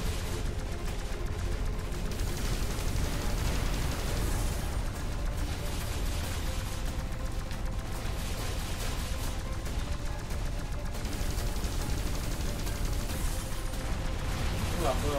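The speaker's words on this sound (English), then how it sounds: "Explosion." Explosions and rapid gunfire from the video game X-Morph: Defense rumble and crackle continuously in a dense, loud barrage that runs the whole stretch without pause.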